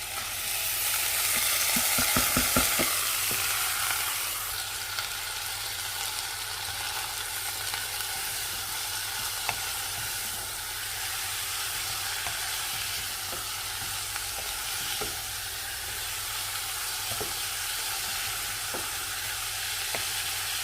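Rinsed, drained lentils sautéing in a pot, a continuous even sizzle with a few stirring scrapes near the start, then a steady hiss and occasional faint clicks.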